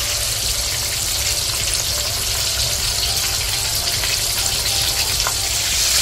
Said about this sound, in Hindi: चिकन को अभी ये एक साइड से ऐसा फ्राई हुआ है, इसको हमें गोल्डन ब्राउन होने तक फ्राई करना है।